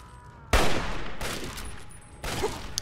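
Enemy gunfire in Fallout 3: three loud bursts of close shooting, each a sharp crack trailing into a noisy wash, spaced roughly a second apart.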